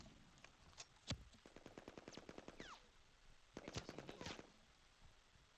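Gunfire in the shooter game Reaper Actual comes in two rapid automatic bursts with a few separate single shots, heard at a moderate distance with no talk over it.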